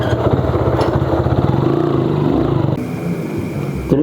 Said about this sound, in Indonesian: motor anyar kieu mah euy